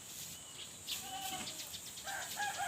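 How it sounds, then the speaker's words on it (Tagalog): Goats sheltered from midday heat in a farm pen bleat faintly at a distance amid steady background hiss and a few higher calls toward the end. "Yan po ang ating mga kambing."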